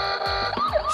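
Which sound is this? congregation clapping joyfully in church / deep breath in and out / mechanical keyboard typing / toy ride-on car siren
toy ride-on car siren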